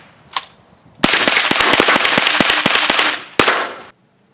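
Gunfire aimed at late medieval steel armor: one sharp report, then a rapid run of about a dozen loud, close cracks in quick succession, and a final shot before silence.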